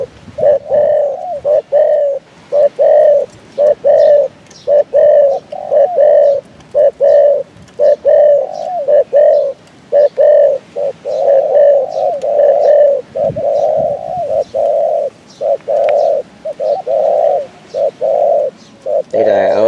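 A songbird-class dove, a Vietnamese cu gáy (spotted dove) kept for cooing, calls in steady repeated coos, loud and close, in a long regular series with brief pauses and no talk.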